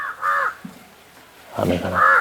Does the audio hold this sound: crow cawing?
yes